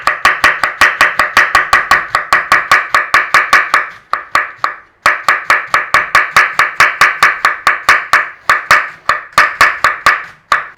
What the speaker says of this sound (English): All we're doing is slicing, fine slice.